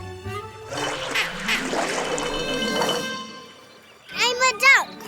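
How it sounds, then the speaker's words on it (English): Cartoon duck quacking in an animated baby-doll series, a few short nasal quacks near the end after a stretch of busy music and voices. "I'm a duck. Quack, quack, quack."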